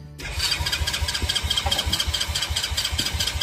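A vehicle engine, a rural vehicle set in neutral with the throttle turned, cranks and fires up, then settles into a steady, close, loud idle with a regular throbbing pulse.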